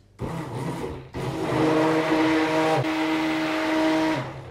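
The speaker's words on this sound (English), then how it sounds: "we're just going to take the stick blender and we're just going to give this a bit of a buzz first, just to get it mixed in before we start" A stick blender buzzes loudly and steadily as it mixes chocolate spread into soap batter, starting with a short burst, pausing briefly, then running continuously with a whining motor tone before cutting off.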